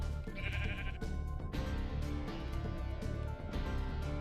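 A sheep in the Minecraft Infdev video game bleats repeatedly, a series of nasal, wavering baas at a steady pace, clear and close.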